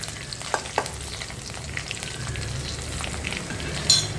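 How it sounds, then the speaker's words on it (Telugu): Chopped garlic hitting hot oil for a thotakura (amaranth leaf) fry, giving a steady, soft sizzle with a few sharp crackles and a brief louder stir near the end. "వెల్లుల్లిపాయ కాస్తంత వేయాలి"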